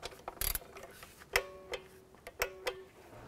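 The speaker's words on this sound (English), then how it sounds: "Now we're gonna torque these in a sequence." Torque wrench tightening ignition coil bolts on a Dodge Grand Caravan, a few faint, sharp clicks and ratcheting ticks spread out in quiet surroundings.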